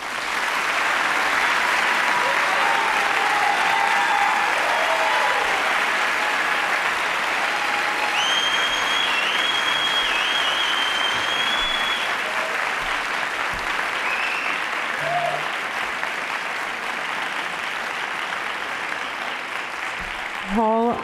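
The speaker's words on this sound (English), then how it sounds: "giving our audience a chance to welcome our candidates tonight with a warm applause" An auditorium audience applauds steadily and loudly to welcome the candidates at the final debate in Ohio's U.S. Senate race. The dense clapping holds for about twenty seconds, with faint voices and a few whoops mixed in.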